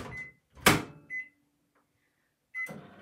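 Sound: microwave oven running briefly to soften chocolate

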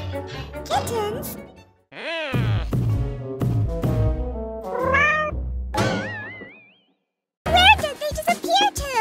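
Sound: kittens meowing

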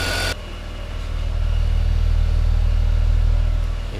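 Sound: BMW E46 inline six engine idling

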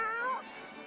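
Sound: Grimalkin cat monsters meowing in Ni No Kuni video game

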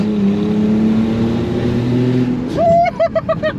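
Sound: supercharged Audi S5 engine accelerating hard uphill

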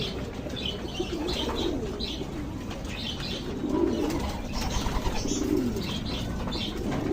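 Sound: pet pigeons cooing

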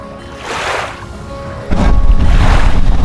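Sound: yacht setting off on the Pánuco river

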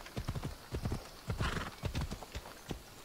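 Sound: horse hooves clip-clopping and neighing in video game Assassin's Creed Odyssey

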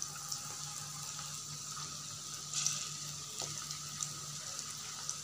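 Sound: okra (bhindi) frying in hot oil

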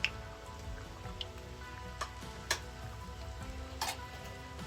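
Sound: samosas (made with elephant foot yam) frying in hot oil

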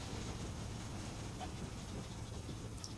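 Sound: train moving in video game Red Dead Redemption

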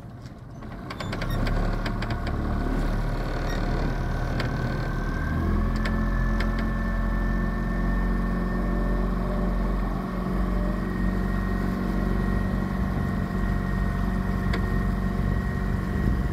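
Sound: boat motor running after being put in gear

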